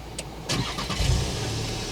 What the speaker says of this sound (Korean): 2리터 가솔린 엔진입니다. 엔진 소리가 상당히 부드럽죠.